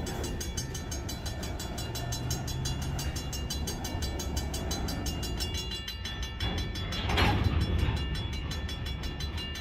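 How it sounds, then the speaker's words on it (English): A train rolls along railway tracks beside a bike path in Alabama, a steady rumble and rhythmic wheel clatter that swells louder near the end, with no voices. "this train has stopped again"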